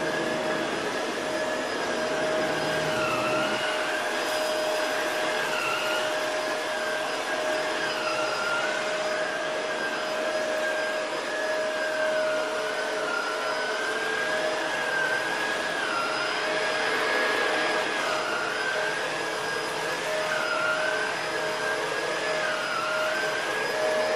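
A Shark Powered Lift-Away NV750W upright vacuum cleaner runs continuously with a loud, steady whine whose pitch wavers slightly as it is pushed around.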